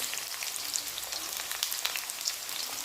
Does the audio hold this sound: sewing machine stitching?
no